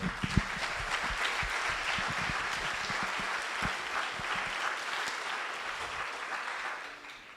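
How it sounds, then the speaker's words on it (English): An audience applauds at a Holocaust survivor's testimony event, sharp individual claps at first merging into a steady crowd wash that fades away at the end. "So please join me in applauding her."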